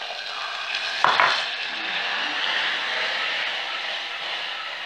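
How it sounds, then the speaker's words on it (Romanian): Water poured into a pan of hot caramelizing sugar hits with a short burst, then settles into a steady, loud hiss and bubbling sizzle that carries on without talk. "Și punem apa peste."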